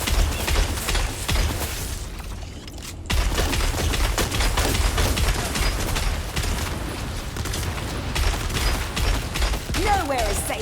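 Gunfire in the video game Dune Awakening, dense rapid automatic bursts that continue almost without a break, loud and close, with brief gaps and mechanical clatter and a voice talking faintly in the background.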